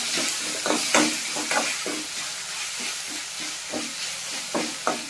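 Crushed garlic and green chillies fry in a pan with a constant sizzling hiss, broken by repeated scraping stirs of a spatula at an irregular rhythm, close and moderately loud.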